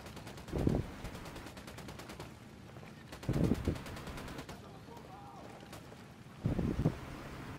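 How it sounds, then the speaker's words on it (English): Enemy gunfire in Ghost Recon Wildlands comes as three separate rapid bursts of automatic fire, spaced a few seconds apart, over a steady bed of wind and ambient game noise. "They're all shooting from nowhere."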